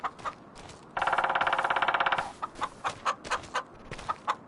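Chickens in the farming video game Farming Simulator 25 cluck in short repeated bursts, with one sustained rapid cackle in the middle, close and clear with no talk.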